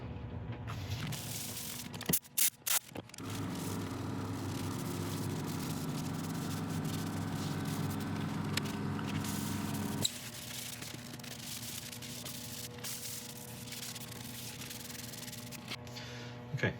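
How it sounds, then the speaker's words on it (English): Isopropyl wiped over a wooden burl bowl to clear away abrasive paste, a steady close rubbing and scrubbing that runs almost unbroken, with a few sharp knocks early on and a slight drop in level partway through. "we'll clean this off with isopropyl, give it a good clean"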